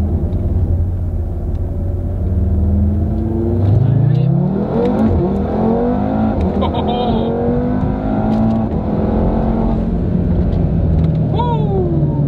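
An Audi TT RS accelerates hard on a street, its engine note climbing steadily in pitch through the gears as it revs, with a loud, close rumble that holds throughout.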